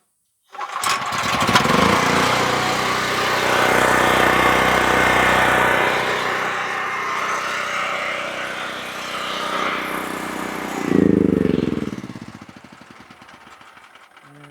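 A Generac GP 5500 portable generator engine starts abruptly and runs loud and steady, then surges briefly near the end before settling, heard close up in hot South Florida weather with no talking.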